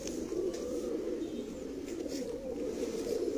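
Pigeons of a Lalpuri-type flock coo continuously nearby, a thick overlapping low warble that holds steady from start to finish with faint higher rustles above.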